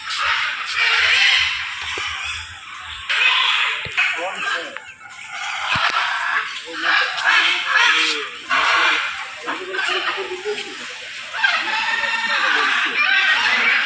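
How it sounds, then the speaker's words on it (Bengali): Busy bird chatter fills the air at Alipore Zoo, Kolkata, dense high chirps and calls overlapping continuously, with fowl-like clucks mixed in and a voice speaking now and then. "পাখিরা কিচিমিচির করছে"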